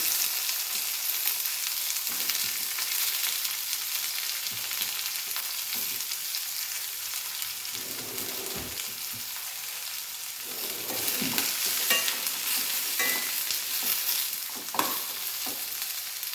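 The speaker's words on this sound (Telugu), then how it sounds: "ఆనియన్స్ పచ్చివాసన పోయేంత వరకు ఫ్రై చేసుకోవాలండి" Onions frying in a pan for a restaurant-style capsicum curry, a steady broadband sizzle with occasional spoon scrapes and clinks, close and continuous with no talking.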